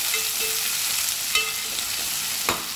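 Onion and tomato gravy for layered biryani frying in a pan, a steady hiss of sizzle with a few soft scraping stirs and sharper clacks of the spoon near the end, close and continuous, with no voices.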